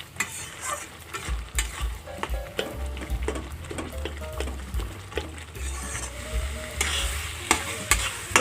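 A spoon stirs cumin seeds and chopped vegetables in a hot pan, with repeated scraping strokes over a steady sizzle of frying at close range.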